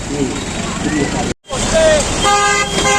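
Busy road traffic near the Girnar parikrama route in Junagadh, with a constant roar of vehicles, crowd babble and repeated car horn toots, loud and close, under a voice.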